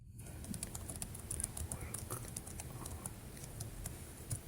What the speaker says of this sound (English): I think Regina may be typing a question.